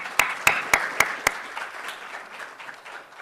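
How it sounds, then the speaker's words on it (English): A short round of applause at a college humanities keynote event, opening with five crisp, distinct claps that blend into softer, fading scattered clapping. "just a quick round of applause"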